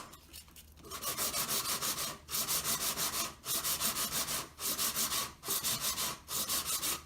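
A handmade metal wedding ring buffed on a polishing wheel, loud close rubbing in repeated sustained bursts of about a second each, separated by brief pauses, after a quieter start.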